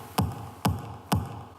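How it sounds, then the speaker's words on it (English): Three punchy electronic kick drum hits, body and punch layered, land evenly spaced and alone, each a sharp attack with a short low thump. "So the body of the kick and the punch together sounds like this."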